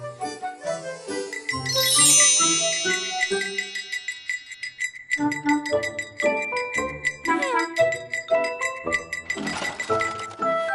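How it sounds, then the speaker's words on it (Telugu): Bright tinkling, bell-like jingles over a lively melodic tune, ringing repeatedly and fairly loud. "ఓ ఎలుక ఆ పిల్లి మెడలో ఓ గంట కడితే సరి అంది"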